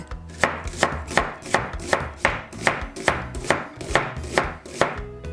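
A knife chops an onion on a cutting board in a steady run of about a dozen evenly spaced, crisp thuds, close up and alone.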